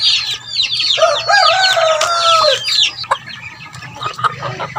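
Loud, close rooster crowing with hens clucking around it, then a few scattered clucks and squawks as the calls die down.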